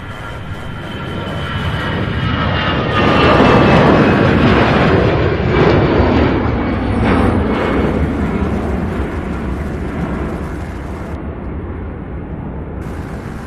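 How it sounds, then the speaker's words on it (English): An Airbus A320 airliner at Louisville International Airport, a loud broad jet roar that swells to a peak and slowly fades, heard continuously without voices. "here's that A320"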